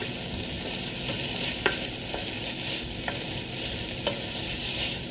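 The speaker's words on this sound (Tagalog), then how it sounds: "At atin pong haluin hanggang magkaano lang mag-blend na siya sa chicken natin." Shredded chicken floss is stirred steadily in a hot pan, giving a continuous dry scraping sizzle with a few faint spoon taps, close up and uninterrupted by speech.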